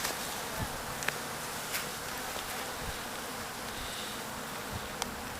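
Honeybees from a newly captured swarm in a new hive buzz continuously, a soft, steady hum with occasional louder passes of individual bees flying close by.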